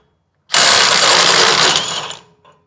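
A cordless Ridgid or DeWalt impact wrench breaks a bolt loose in a single harsh, loud burst of rapid mechanical hammering. It lasts under two seconds, starts abruptly and cuts off, with a faint rattle after it.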